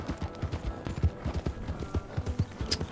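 Horse hooves clip-clop steadily in Red Dead Redemption 2, a quick, even rhythm of soft thuds on a road, heard fairly quietly under faint game ambience.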